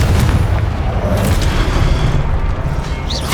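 Confringo explosion spell cast during the Percival Rackham trial duel in Hogwarts Legacy, a loud booming burst with a heavy low rumble that fills the short moment, followed by a faint high whoosh.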